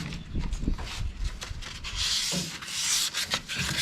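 WD-40 being smeared around on metal parts of an extreme budget car build: close, continuous rubbing and scrubbing strokes in an uneven rhythm, with a brief hiss of spray mixed in.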